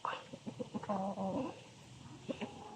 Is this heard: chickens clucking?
yes